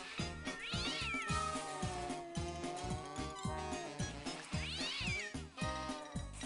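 A cat meows twice, a few seconds apart, clear but set under steady rhythmic music.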